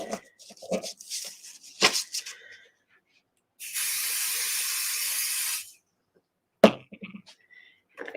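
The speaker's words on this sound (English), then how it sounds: "put pixie spray on here so the water won't seep through" Pixie spray is sprayed onto a piece of artwork in a single continuous hiss lasting about two seconds, close and clear, with soft handling noises before and after.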